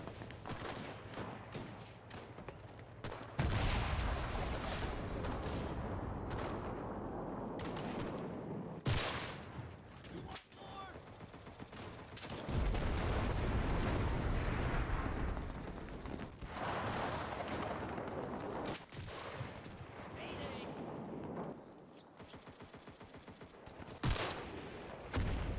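Dense gunfire from the Pacific campaign of the video game Enlisted, with rattling machine-gun bursts and sharp single shots, some close and loud, others more distant, coming in waves across the clip.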